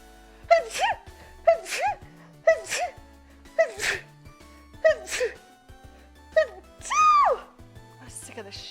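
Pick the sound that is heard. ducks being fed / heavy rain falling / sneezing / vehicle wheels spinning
sneezing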